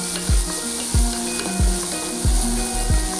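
Tomatoes sauté in oil for sambar rice, crackling in a steady sizzle broken by about six sharp, regular knocks of a spoon stirring in the pan.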